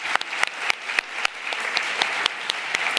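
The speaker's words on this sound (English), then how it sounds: "big hand of applause" A summit panel audience applauds steadily with crisp, closely spaced claps throughout, fairly loud and uninterrupted.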